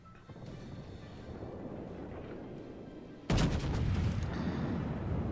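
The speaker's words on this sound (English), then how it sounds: "Let's wait for the next salvo." Scharnhorst battleship main guns firing a salvo in World of Warships: a loud, sudden broadband boom partway through, followed by sustained heavy rumble over the constant engine and ocean background.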